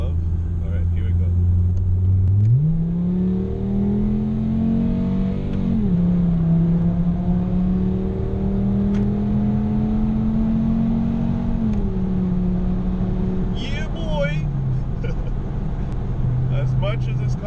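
A 2018 Ford Mustang with a five-cylinder engine accelerates, its revs climbing steadily through gears with brief drops at shifts, loud and close from inside the car, with a voice speaking over it.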